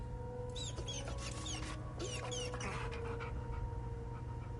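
An abandoned dog in the video game Hell is Us pants and whimpers over a steady low ambient hum, with faint high whines and breathy pants at moderate distance.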